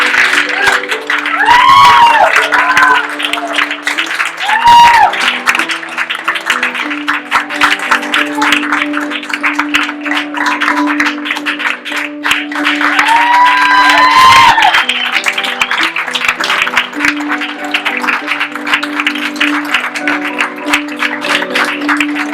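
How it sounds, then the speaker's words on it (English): An audience applauds after a teen drama performance, with sustained clapping and scattered cheers and whoops running under background music at high loudness. "let's give them one more round of applause"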